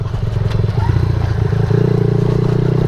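A Suzuki DRZ 70 small motorcycle rides along with a steady, close engine drone and clattering chassis rattles, the pitch rising as the throttle opens near the end.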